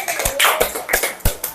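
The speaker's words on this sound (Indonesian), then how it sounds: "Oke, tepuk tangan semuanya." A primary school class in Indonesia clapping hands, a few sharp, uneven bursts of claps close by over a brief moment.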